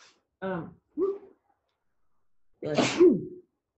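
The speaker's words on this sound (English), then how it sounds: "So I sneeze into my mask." A person sneezes into a face mask at a knitting and yarn table, a sharp close sneeze following a couple of short breathy vocal sounds.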